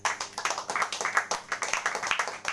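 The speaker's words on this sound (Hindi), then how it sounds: "जोरदार ताली से प्रभु धन्यवाद।" A church congregation claps loudly in a quick, fairly even rhythm, sharp hand strikes repeating for a few seconds with a slight room echo.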